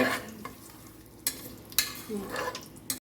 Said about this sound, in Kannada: ಘೀ ಮತ್ತು ಆಯಿಲ್ ಹಾಕಾದ್ಮೇಲೆ ಪಲಾವ್ ಸಾಮಾನು ಹಾಕ್ಕೊಳ್ಳಿ ಸೊ ಅದೊಂದು ತರ್ಟಿ ಸೆಕೆಂಡ್ಸ್ ಫ್ರೈ ಆಗಲಿ ಆಯಿಲಲ್ಲಿ